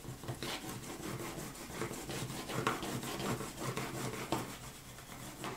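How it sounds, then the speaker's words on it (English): Steady, rapid rubbing as adhesive paper is burnished hard onto the base of a scrapbook mini album, a dense scratchy friction with rhythmic strokes, close and fairly quiet, with no talking. "Now I'm gonna burnish the absolute daylights out of this spot."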